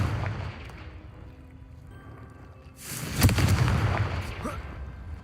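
A fiery spell blast goes off in Hogwarts Legacy, a sudden loud burst that rumbles and crackles for a couple of seconds after a quieter stretch.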